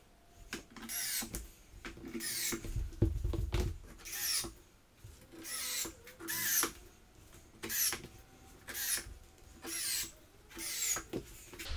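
A power drill drives screws into a soft pine barn door panel in repeated short bursts, with the motor whirring up and stopping in a steady rhythm. The drill sounds close, and quieter handling noises fill the gaps between bursts.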